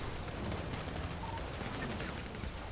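Rapid bursts of gunfire crackle through a busy street scene in GTA NoPixel roleplay, dense and steady, with faint background activity.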